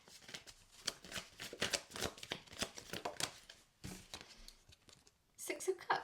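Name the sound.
drawing and shuffling tarot cards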